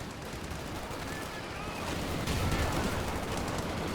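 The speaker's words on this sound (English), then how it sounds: "some riflemen are in fact firing at them" Rifle gunfire from riflemen in the Company of Heroes 2 strategy game, a dense rattle of shots and battle noise continuing throughout and growing louder in the second half.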